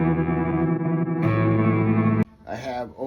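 An electric guitar played through an EarthQuaker Devices Black Ash fuzz pedal rings out as heavily distorted sustained chords, then a sharp cut and a wobbling, bending tone.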